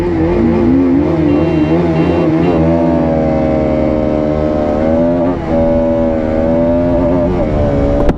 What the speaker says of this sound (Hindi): रनवे खाली हो चुका है और बाइक्स लॉन्च करने के लिए तैयार है